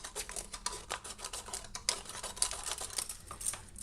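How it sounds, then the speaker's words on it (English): Scissors snipping through the rim of a small drinking cup, a steady run of close, crisp cuts and scratchy plastic crunches with no talking. "And what you do is you just cut off the rim"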